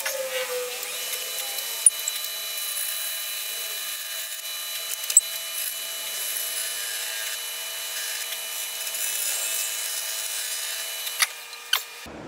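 A scraper works the outside of a pignut hickory vase on a lathe, giving a steady high-pitched hissing whine with a few sharp clicks, close and continuous with no talking.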